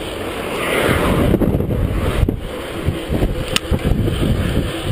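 Strong crosswind buffets the microphone during a fast downhill bicycle descent on the B6138 in Cragg Vale, a loud continuous low rumble with gusty surges and no talk.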